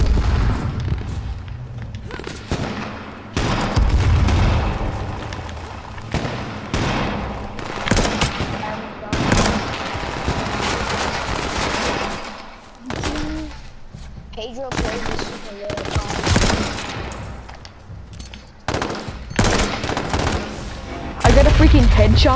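Gunfire in the H1Z1 battle royale game, with irregular bursts of rapid shots and heavier booms that come and go over about twenty seconds.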